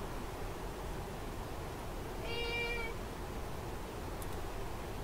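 A single drawn-out cat meow in the Heroes of the City video game, moderately clear against a constant background hiss, with no talk.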